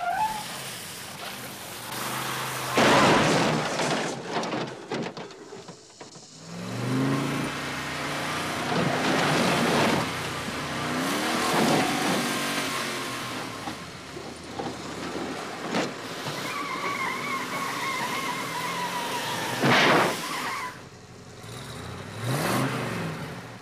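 A 1958 Plymouth Fury car engine revs and surges in repeated loud bursts, with tires squealing in sharp rising streaks, alone and close over about twenty seconds.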